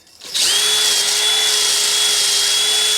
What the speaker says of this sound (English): I'm just going to give this a clean up with a wire brush of all those areas where those pads will need to move.